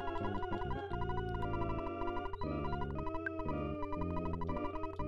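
EarthBound game music plays a busy, hectic chiptune-style passage with dense layered tones and shifting sustained notes, fairly quiet and continuous with no talking.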